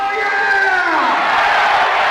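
A wrestling crowd at a live ECW-style street fight roars and cheers loudly and continuously, with whoops and shouts rising over a steady wall of noise.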